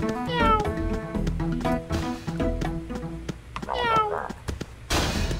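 Cat meowing repeatedly in a stream game scene, rising and falling calls layered over background music and game sounds, with a voice also imitating the meows.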